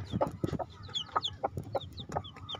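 A hen clucks repeatedly at close range, short throaty notes in an uneven rhythm, with faint higher chirps from chicks around it.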